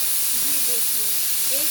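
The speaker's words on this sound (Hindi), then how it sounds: "एक सीटी आ गई है" A pressure cooker whistles steadily while gajar ka halwa cooks, a continuous loud steamy hiss filling the short moment without pause.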